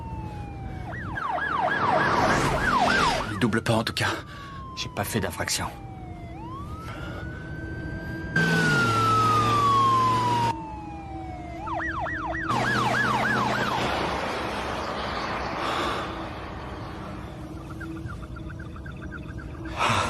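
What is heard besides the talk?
emergency vehicle siren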